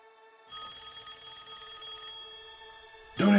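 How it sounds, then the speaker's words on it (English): An old-style telephone bell rings in a horror movie trailer, one sustained metallic ring lasting a few seconds after a quiet start, cut off by a louder sudden sound at the end. "Don't answer the phone!"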